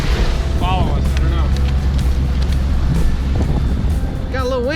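Strong wind blows across a boat at sea, a loud, steady roar with low buffeting on the microphone, while people speak briefly over it.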